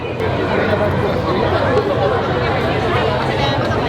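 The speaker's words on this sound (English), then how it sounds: "There's just so many people crowding around him. The crowd is just moving." A dense crowd at Galaxy's Edge shuffling and swarming around the Mandalorian, heard as a steady wash of murmuring chatter and movement with no single voice standing out.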